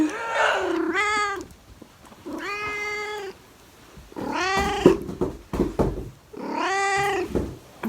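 A cat meows repeatedly at night, four drawn-out, loud, tonal calls spaced across the span with quieter noise and faint knocks between them, no talking.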